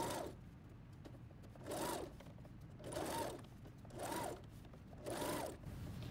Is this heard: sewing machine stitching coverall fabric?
yes